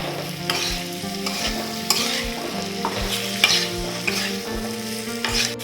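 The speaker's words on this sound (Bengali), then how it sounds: "এবার এটাকে একটু ভাজা ভাজা করে নেব" Vegetable stems frying with slit green chilies, salt and turmeric, a loud continuous sizzle under repeated rhythmic scraping and stirring of a spatula in the pan, with no voices.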